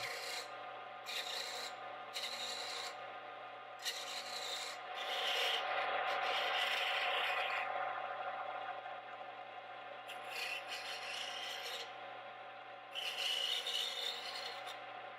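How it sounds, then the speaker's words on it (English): Wood turning on a lathe with a roughing gouge and a spindle gouge while shaping a small mallet, heard as repeated close scraping bursts of varying length over a steady low motor hum. "first, I'm going to use the roughing gouge, and then eventually it's back to the spindle gouge to soften the edges and round it over"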